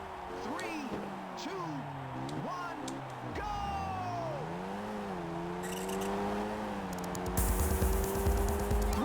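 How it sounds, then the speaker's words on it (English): Race car engine from the PSP game Ridge Racer, a steady tonal whine sweeping up and down in pitch as the car accelerates and shifts, sitting fairly low under music and gameplay effects. "I feel like the engine noises in this are like way lower in the mix than most Ridge Racers"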